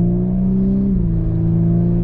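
Audi B9 S4 with a Unitronic Stage 1+ tune pulling at quarter throttle, a steady low engine drone heard from inside the car that shifts pitch briefly midway, with no voices.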